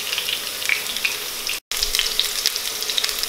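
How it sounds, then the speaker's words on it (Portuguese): Potatoes fry in a pan for a fondant potato dish, giving a steady bright sizzle with crackling pops throughout, briefly cut to silence midway, with no talking. "Vamos deixar pelo um minuto pelo menos a nossa batata a fritar."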